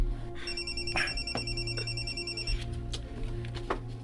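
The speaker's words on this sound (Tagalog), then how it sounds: "Kay nanawag si Miss Mara" A telephone ringtone plays close and clear, with repeated electronic tones in a steady pattern over about four seconds. No one speaks.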